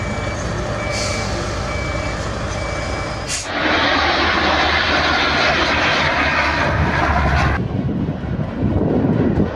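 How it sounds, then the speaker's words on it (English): A loud, steady jet engine roar swells suddenly and holds at full power, a constant whine and rumble with no voices. "The sound of airplanes mixed with the wind"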